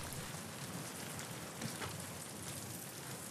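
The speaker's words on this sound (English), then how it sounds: "Come on, let's go. Let's get out of the rain." Rain falling steadily in the video game The Last of Us Part 2, a soft, even hiss of drops on surfaces, faint and continuous with no voices.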